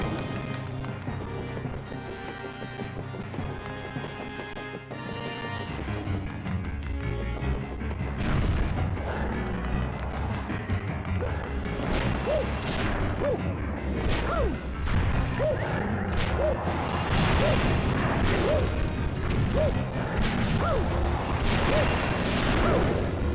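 Bowser smashing apart his own castle in Super Mario 3D Land, a long barrage of heavy crashes and booming impacts over game music, loud and continuous, building in intensity after a calmer start.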